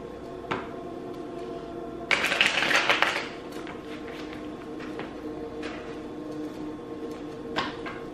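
Tarot cards are shuffled in a sharp riffling burst, followed by a few scattered soft taps and card clicks against a quiet room hum, with no talking.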